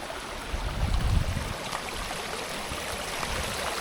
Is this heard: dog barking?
no